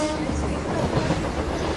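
A crowded commuter train rolls through Mumbai with a loud, steady rumble and faint rhythmic clatter of wheels on rails, continuous and close throughout.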